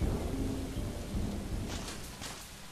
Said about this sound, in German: Guck dich mal an, wie das hier gießt.